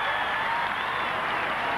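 A stadium crowd at a 1989 Australian football match between the Brisbane Bears and Fitzroy cheering and applauding in a dense, loud, unbroken roar.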